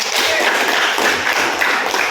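Audience at a talk on managing emotions claps together in a dense, steady patter of hand claps that fills the whole moment.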